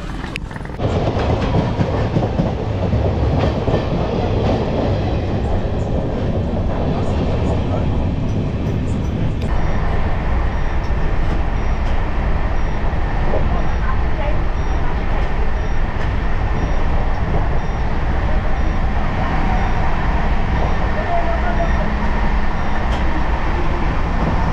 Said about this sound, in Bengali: ট্রেন একদম চলছে দুরন্ত গতিতে। ভালোই চলছে ট্রেনটা।